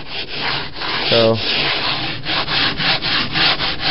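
Hand sanding with rolled-up 80-grit sandpaper on the canopy and strakes of a Cozy Mark 4 aircraft build: loud, close, steady rasping strokes back and forth, with a brief spoken word.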